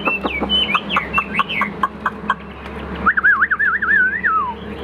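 A newly acquired pet songbird calls up close: a quick run of sharp chirps and whistled notes, then a brief pause and a rolling, warbling whistle phrase, with no voices.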